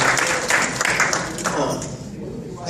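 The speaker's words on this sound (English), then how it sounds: "So just give her another round of applause." An audience at a family reunion dinner applauds a speaker, a sustained patter of clapping that thins out toward the end, with voices underneath.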